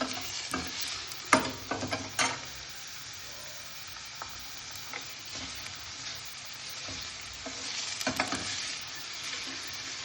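Sliced onions frying in oil for a mushroom and pea sabzi, stirred now and then: a steady sizzle with clusters of scraping spoon strokes early on and again near the end, with no voices.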